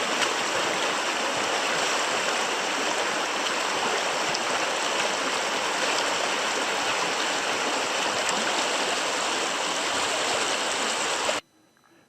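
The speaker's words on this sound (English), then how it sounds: "Here I am in one of our many river crossings." River water rushes loudly and continuously during a wading crossing of the Kangakut River, a dense, close roar of flowing current that cuts off abruptly at the end, with no voices.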